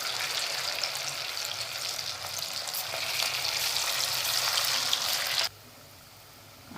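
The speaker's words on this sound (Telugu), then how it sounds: "నూనె ఏడెక్కిన తర్వాత ఇప్పుడు ఇలా మనం కలుపుకున్నది మెల్లిమెల్లిగా ఒక్కొక్కటిగా" Pieces of potato mixture sizzle steadily in hot oil, a dense, even frying hiss that carries on close and loud before cutting down abruptly near the end.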